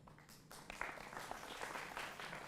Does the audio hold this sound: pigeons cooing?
no